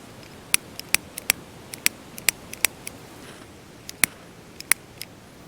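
A cigar lighter is clicked over and over without catching during windy truck camping, giving sharp isolated snaps in uneven bursts, close and crisp over a quiet background with no talking.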